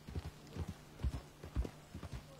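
Horse hooves in a video game, a run of soft, muffled clip-clop beats in uneven pairs, fairly quiet with a faint steady hum behind them.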